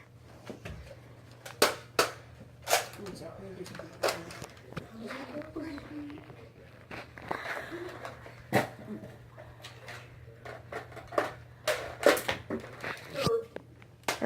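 A Nerf Retaliator blaster fires foam darts in a series of sharp, irregular pops and clacks over about fourteen seconds, with people talking and moving around it indoors.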